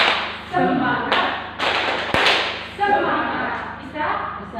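A group does the rhythmic Indonesian "tepuk semangat" cheer clap as a classroom ice-breaker, sharp claps landing in bursts with chanted voices between them, fairly close and loud.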